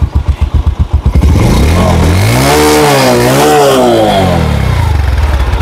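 A Bajaj Discover 125 cc motorcycle engine is started and revs up, loud and close, after a few rhythmic cranking pulses, then holds a steady running idle.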